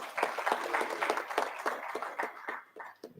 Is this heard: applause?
yes